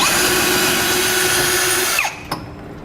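A power drill bores through a steel truck cross member with a loud, steady high whine that holds for about two seconds, then winds down abruptly, followed by a brief clunk.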